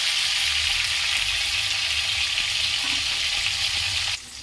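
Fish fries in oil in a pan while being stirred, a loud, dense hiss with soft scrapes, close and steady, then the sizzle abruptly drops in level near the end.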